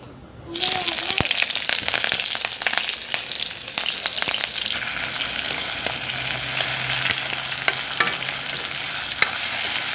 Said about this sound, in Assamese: পিঁয়াজ আৰু গাহৰি মাংসখিনি অলপ ভাজি সিজাই লওঁ